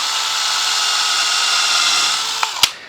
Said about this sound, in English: So I've got into the habit of just countersinking all the holes.